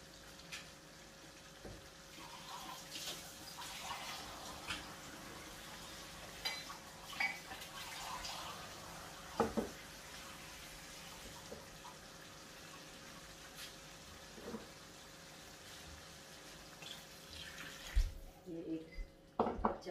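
Water is poured into a pot of rice while cooking a meal at home, a low, faint gushing and trickling through most of the stretch with occasional pot clinks and handling knocks.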